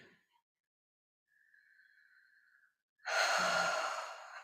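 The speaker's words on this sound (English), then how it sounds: "Making sure you're not holding your breath, you're letting the breath flow" Slow, soft breaths during a guided relaxation exercise: a faint airy exhale, a quiet pause, then a long, louder sighing breath out close to the microphone, with no speech.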